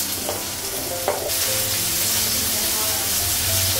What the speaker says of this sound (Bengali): পেঁয়াজটা ভাজা হয়ে গেছে, ঝিঙে আর আলুটা লাগবে